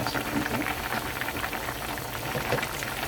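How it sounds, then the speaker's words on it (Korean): Bean sprout kimchi soup bubbles and simmers in a pot, a soft, steady burble of boiling liquid heard up close and fairly quiet. "끓는 물에 불에다가 한 5분 정도 더 끓여줬습니다"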